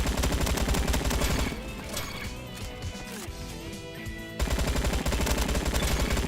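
Rapid automatic AK-47 gunfire inside the Roblox shooter Bad Business, a dense, loud stream of shots running through most of the clip, with a quieter stretch in the middle amid game effects and music-like tones.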